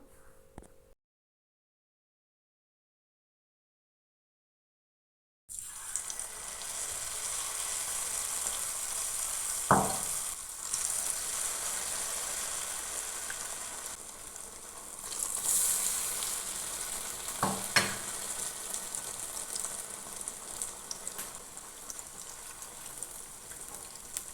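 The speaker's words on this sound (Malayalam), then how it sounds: "ഇനി നമുക്കിത് ഫ്രൈ ചെയ്തെടുക്കാം" Potato bajji deep-frying in hot oil over a medium flame, a steady broad sizzle after a silent gap, with a few sharp pops and crackles rising through it.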